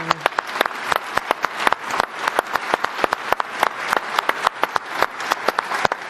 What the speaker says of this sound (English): Let us give His Holiness a round of applause.